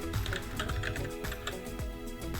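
Rapid clicking of computer keyboard keys while a message is typed into a chat box, steady and close with no voices.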